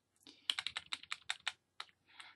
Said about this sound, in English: And you have to use your arrow keys here.